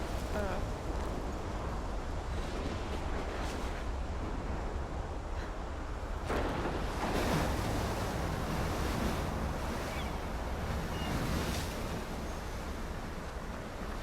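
Loud storm wind and crashing surf from Life is Strange Remastered roar steadily throughout, a dense continuous wash with gusts swelling midway, while faint talk sits underneath.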